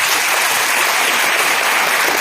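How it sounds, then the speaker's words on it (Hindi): An audience at a rally applauds, giving a dense, continuous burst of clapping that stays loud and even throughout the short moment. "उनके लिए तालियां।"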